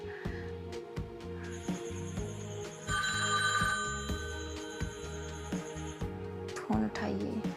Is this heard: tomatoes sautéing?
no